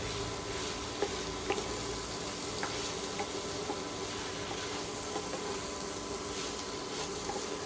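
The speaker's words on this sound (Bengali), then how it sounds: "এবার ময়দাটাকে ভালো করে একটু ভাজতে হবে।" Flour fries in a pan with a soft, even sizzle, and faint occasional taps and scrapes of a spoon sit beneath a continuous close hiss.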